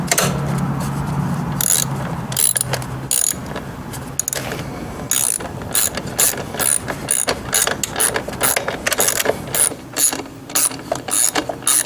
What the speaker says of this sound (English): Now when they both are aligned, at that point you can tighten your screws